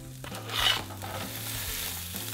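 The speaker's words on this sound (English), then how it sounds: "Now we'll caramelize these onions. Okay, turning slow to high heat." Onions caramelize in a hot pan, giving a steady close sizzle and frying hiss with a faint low hum underneath.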